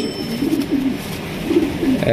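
Low, rolling pigeon coos repeat close up in a steady murmur, several birds overlapping against a soft background hum.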